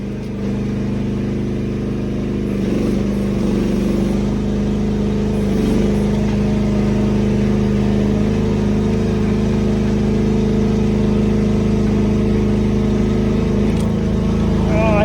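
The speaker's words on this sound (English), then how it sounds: "you can rev it up a little bit to get a little bit more out of it" A car engine runs steadily at a raised, revving pitch throughout, close and loud, with a faint voice beneath it.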